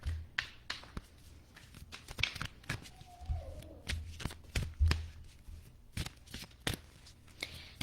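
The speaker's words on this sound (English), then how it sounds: "I feel like I'm going to need to pull a couple of cards around this." A deck of cards being shuffled before cards are pulled for a reading, with repeated crisp riffling and snapping bursts at an uneven rhythm, close and fairly quiet, and no talk.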